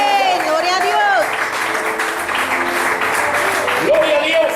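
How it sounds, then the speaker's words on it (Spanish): Church congregation applause during a Spanish-language sermon, clapping and crowd noise running under loud voices, with a person speaking over it. "Dale un fuerte aplauso al Señor."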